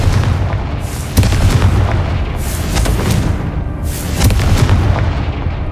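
Confringo blasting-spell explosions in the video game Hogwarts Legacy, a series of loud booming blasts with crackling bursts and rumbling decay, several impacts in quick succession.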